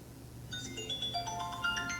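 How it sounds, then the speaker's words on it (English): A phone ringtone plays, a bright electronic melody of rising and falling tones starting about halfway through, fairly faint over a low steady hum. "Can I answer the phone?"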